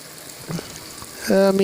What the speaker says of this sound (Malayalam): നമ്മുടെ മീൻ നന്നായിട്ട് തിളച്ച് വരുന്നുണ്ട്